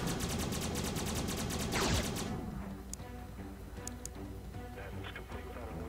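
Rapid bursts of aircraft weapon fire from the Xenonauts video game crackle loudly for about two seconds, then fade into a busier game soundscape with scattered impacts and sharp hits.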